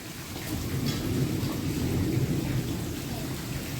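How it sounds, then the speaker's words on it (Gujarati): A thunderstorm roars with heavy, steady rain and strong wind, a low rumble of thunder rolling underneath throughout. "ભયંકર પવન અને વરસાદ સાથે"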